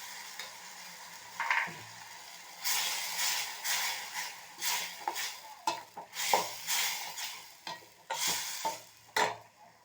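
Tomato paste stirred into onion and ginger-garlic paste in a hot pan, with a soft sizzle under repeated spoon scrapes and clinks against the metal, close up and without voices.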